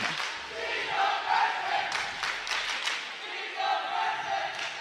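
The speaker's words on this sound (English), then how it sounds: "The old "she's a freshman" chant coming from the Eagle crowd" A home crowd of Eagle fans chants and cheers in a gym during a girls' high school basketball game, a loud, sustained roar of massed voices rising in bursts over steady crowd noise.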